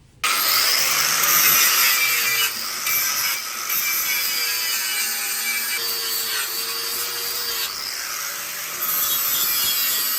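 Metal cutting on a 1300cc stockcar exhaust pipe, a steady harsh grinding rasp close by running almost continuously with slight shifts in pitch and a short dip partway through, no talking.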